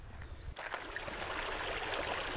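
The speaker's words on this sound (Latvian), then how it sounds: "Ir vienkārši upe." A river runs steadily through swampy forest, its close, even rushing wash holding a constant level after a brief quieter start, with no voices.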